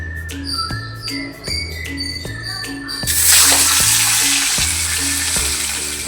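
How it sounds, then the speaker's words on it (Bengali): Fish frying one by one in hot oil in a wok, a loud bubbling sizzle that swells after a few seconds of quieter kitchen sounds with a regular tonal beeping, then stays dense and steady. "তো চলো মাছগুলো ভেজে নিই একে একে।"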